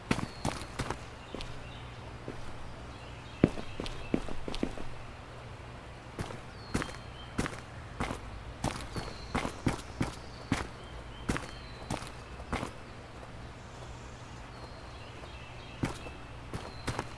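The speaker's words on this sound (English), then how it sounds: "That's some footsteps." Footsteps in the survival video game Road to Vostok: a long run of sharp, irregular steps, some in quick bursts and some spaced apart, fairly close over a low steady background hum.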